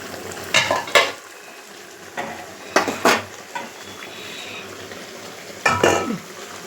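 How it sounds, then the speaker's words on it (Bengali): Rohu fish frying in a pan gives a steady background sizzle, broken by several sharp, clattering bursts of a utensil stirring and scraping against the pan. "দেখো মাছটাকে ভেজে রাখছি, রুই মাছটাকে"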